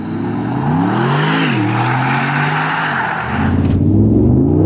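An 850 hp Keyvany car pulls away from a standstill without launch control, its engine loud and close as it revs up through a smooth rising sweep, briefly easing before surging again in a second hard climb.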